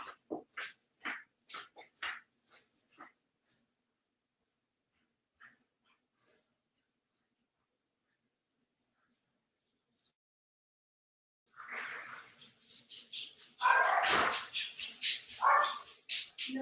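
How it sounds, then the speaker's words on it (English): A dog whining to be let in, a series of short high whimpers near the start, then quiet, followed later by louder rough whining and whimpering sounds. "my dog already wants in"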